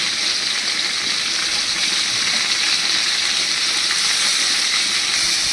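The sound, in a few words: soybean chunks frying in a pan, water sizzling off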